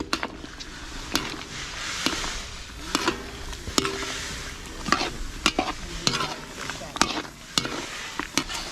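A utensil repeatedly scrapes and clanks against a pot while kare-kare, a Filipino stew, simmers and sizzles, giving roughly one sharp stroke per second over a steady bubbling hiss.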